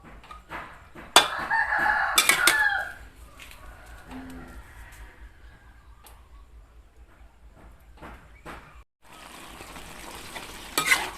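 Onion flowers and straw mushrooms stir-fried in a pan for a sweet-and-sour dish, with loud sizzling and scraping bursts early on, then a quieter steady fry with a few sharp clacks of the utensil.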